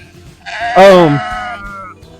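A single sheep on a small farm gives one loud, wavering bleat lasting under a second, close and clear against a quiet background.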